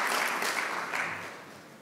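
An audience applauds Casey at a sustainable-technology conference, a steady wash of many hands clapping that holds strong and then slowly tapers off.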